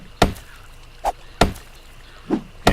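Wooden chops from an axe striking a tree trunk in the 7 Days To Die survival game, five sharp thwacks at a regular pace with quiet gaps between them.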